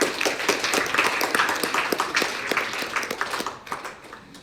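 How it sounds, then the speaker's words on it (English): Scattered applause from a small group at an informational meeting, individual claps distinct and uneven, tapering off toward the end. "Round of applause."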